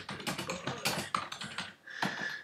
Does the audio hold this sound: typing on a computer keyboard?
yes